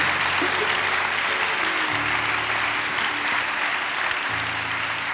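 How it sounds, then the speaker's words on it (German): A crowd at a closing event in an arena applauds continuously, a thick wash of clapping with a few low tonal hums from a sound system beneath it. "Und das ist also ein Applaus wert"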